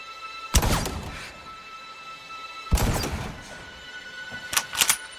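Rifle gunshots in a war film, two sharp loud cracks a couple of seconds apart, each ringing out briefly, followed by a quicker pair of bangs near the end.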